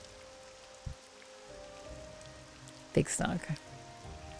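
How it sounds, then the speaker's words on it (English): Rain falls in the video game Morrowind as a soft steady hiss beneath a few brief knocks and clatters, while a person says a couple of words. "rain sound, rain frequency, the weather in this adds so much"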